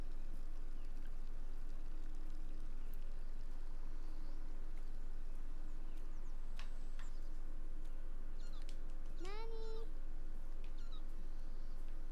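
A single short cat meow rises and falls in the Beyond Eyes game near the end, faint against a steady hiss of outdoor ambience with light chirps.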